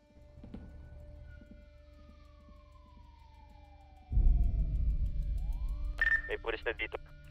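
A police siren in the video game Prestige 2.0 during a motorbike chase: a single falling wail glides down, a loud engine roar surges in midway, and sharp rapid yelping siren bursts close out the clip.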